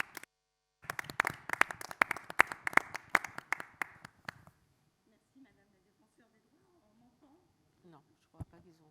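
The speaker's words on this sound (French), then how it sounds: "On peut l'applaudir." An audience at a public meeting on territorial discrimination in La Courneuve claps for several seconds, the applause close and fairly loud before it fades out, followed by quiet murmuring and a single sharp knock.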